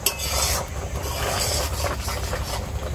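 Thickened milk reduced into kheer is stirred in a pan, giving continuous scraping and rasping strokes of a spoon against the pan bottom, close up and moderately quiet, with a soft sizzle underneath.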